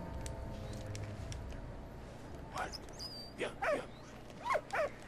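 A dog in the World War I trench game Valiant Hearts gives a few short barks and yips in the latter half, fairly close, over a low rumbling game backdrop.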